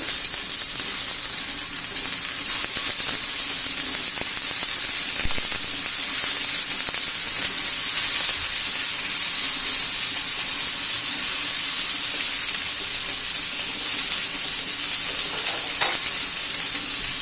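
Tomatoes roast in a wide, shallow pan under a lid, giving off a loud, steady, even sizzling hiss that barely changes, with no one speaking.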